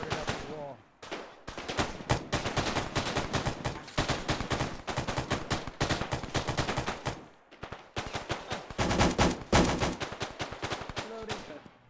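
Video game gunfire in a battle around a boarded-up wall: loud, nearly continuous bursts of rapid automatic shots crackle back and forth for the whole stretch, with only brief lulls.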